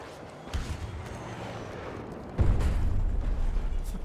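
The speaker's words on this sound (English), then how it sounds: "What's that explosion?" An explosion booms in a Battlefield 2042 match, a heavy low rumble that swells suddenly and stays loud and rolling over the game's constant background noise.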